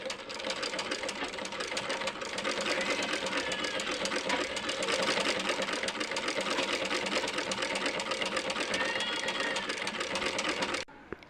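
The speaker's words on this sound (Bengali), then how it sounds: "কুচির কাপড়টা সেলাই করে নিই সেলোয়ারের নিচে কুচি দেওয়ার জন্য" A sewing machine stitches ruffle fabric for a salwar in one continuous, fast mechanical chatter lasting about eleven seconds, close and steady, then stops abruptly, with no talking.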